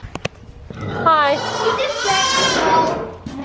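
Young goat bleating inside a stall at a horse barn, one long wavering cry close by, preceded by a few sharp knocks and with light background noise.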